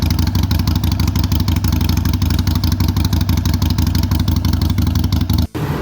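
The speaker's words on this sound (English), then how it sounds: "here's a 45-degree American V-twin." A 45-degree American V-twin motorcycle engine idling with a loping, uneven rumble, steady and close, with a brief dip near the end.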